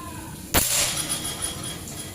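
A shot from a PCP air rifle with a 30 cm seamless barrel charged to 2700 psi at a metal silhouette target. A single quick crack is followed by a faint fading ring against steady background hiss.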